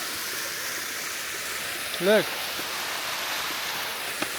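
A Swiss waterfall pours in a steady, faint broadband rush of falling water, with a brief spoken word partway through.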